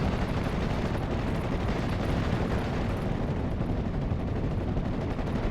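Sustained machine gun fire rattles through a dense World War II battle in the strategy game Steel Division 44, with Scottish infantry facing SS armor; dense, continuous bursts and rumbling explosions fill the whole stretch without pause.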